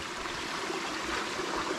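Water in Bellbird Creek flows and trickles steadily at close range, a continuous broadband rush with no talk over it.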